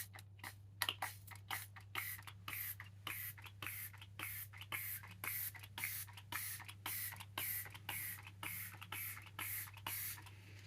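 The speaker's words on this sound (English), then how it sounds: "I will also use the dewy setting spray" Rapid bursts of a fine mist of e.l.f. Power Grip Dewy Setting Spray, many quick pumps in an uneven rhythm, close and crisp over a steady low hum.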